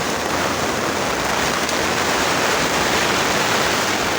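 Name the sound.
heavy rain falling outside a greenhouse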